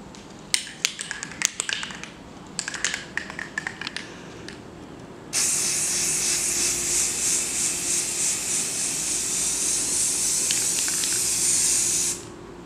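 Old aerosol spray can coating a thrifted coffee table: a few short taps and hisses, then a long, steady, close spray hiss lasting about seven seconds before cutting off.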